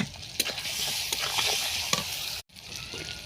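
Spices with salt, turmeric and chopped tomato sizzle in a pan with prawns, a close steady frying hiss broken by several sharp stirring scrapes and a brief pause near the end.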